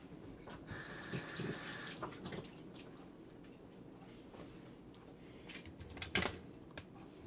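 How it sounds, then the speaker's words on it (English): Water poured into the bottom of a baking pan for a holiday baked ham, a short splashing pour in a home kitchen followed by quieter clatter and a sharp clink near the end. "I'm going to put some water at the bottom of my pan."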